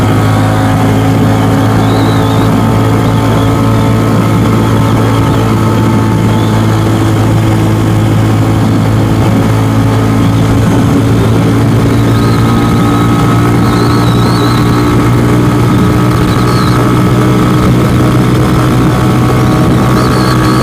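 A Venom X22R motorcycle cruises steadily in third gear with new sprockets, its engine drone loud, close and continuous under steady wind rush, with no speech.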